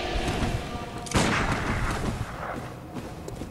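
A dense, rumbling blast-like burst in the video game Bloodborne, loud and sustained, spiking sharply about a third of the way in and then rolling on amid continuous game noise.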